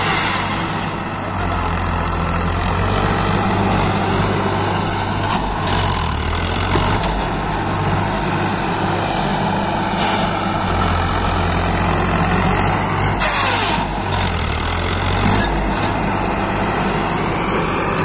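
A new tractor engine, Powertrac Euro 50 Plus or John Deere 5210, runs with a steady low diesel throb and rumble, revving slightly at times, close and continuous for the whole stretch with no talk.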